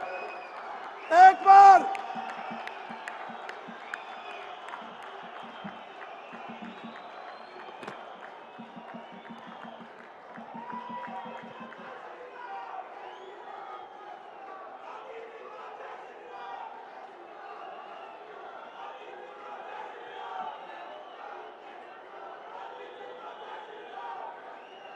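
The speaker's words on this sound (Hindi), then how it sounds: "जोरदार तालियों से" Large outdoor crowd at a campaign rally in Udhampur, Jammu and Kashmir, applauding and cheering the arrival of the Prime Minister, a steady wash of clapping and voices under an announcer speaking over a loudspeaker.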